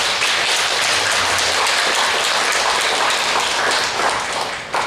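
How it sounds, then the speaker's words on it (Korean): A church congregation applauds together during a Sunday worship service in a dense, steady wash of clapping that tapers off at the end. "우리 박수로 한번 정리하겠습니다."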